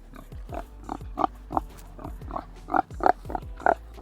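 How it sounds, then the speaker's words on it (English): Pigs on a rescue farm grunt repeatedly in short, rhythmic bursts, about a dozen close, clear grunts over a few seconds with no talking. "These are our pigs, Little Fella and Wilbur over there."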